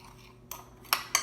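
Spice rub for flank steak is mixed in a bowl, heard as three quick, faint clinks of a utensil against the bowl in an otherwise quiet moment.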